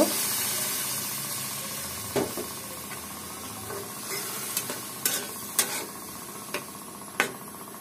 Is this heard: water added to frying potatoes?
yes